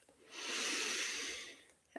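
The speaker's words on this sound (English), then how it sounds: "Exhale, back and down." A slow, steady exhale during a guided meditation breathing exercise, a soft airy breath rising and fading over about two seconds, close and alone with no talk.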